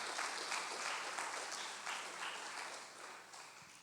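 Congregation in a church applauding together, a dense steady wash of many hands clapping that holds for the whole stretch and slowly fades toward the end.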